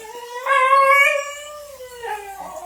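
A female dog whines and howls close by in a home kitchen while food is being prepared, one long rising howl followed by a shorter whimpering cry.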